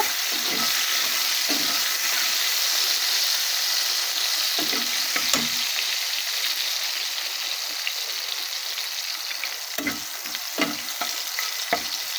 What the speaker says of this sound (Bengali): দিয়ে দিলাম রসুন তাকে লাল করে নেব